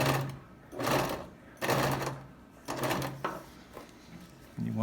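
A sewing machine runs short reverse stitches through a homemade upholstery pocket for a 1971 Volkswagen Beetle, giving four brief close bursts of rapid mechanical whirring separated by pauses.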